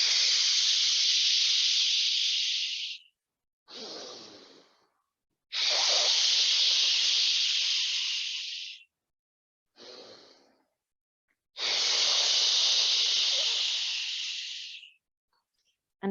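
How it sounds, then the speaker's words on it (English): Three long, forceful exhalations made with a shushing sh sound during a meditation breathing practice, each lasting about three seconds, separated by quieter in-breaths, close and alone with no talking. "And now the next 3 will be a sh sound."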